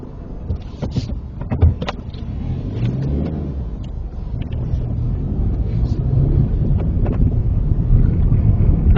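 A car pulling away during a UK driving test, engine noise and cabin rumble building steadily from a low idle as it drives off, with faint road and wind noise inside the car.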